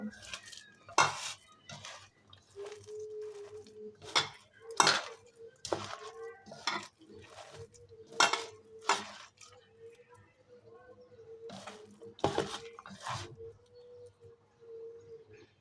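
A potato and onion chop mixture is mashed and mixed by hand in a bowl, producing soft squelches with sharp clinks and knocks against the bowl at irregular intervals, close and quiet with no clear speech.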